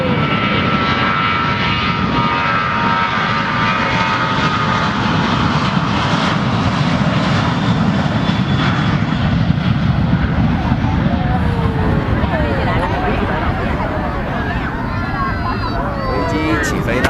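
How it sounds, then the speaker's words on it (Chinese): A passenger plane at Yulin Fumian Airport accelerates down the runway and lifts off, a loud close roaring engine drone that swells and then fades slightly as it climbs away, with people talking over it. "现在开始加速滑行起飞。"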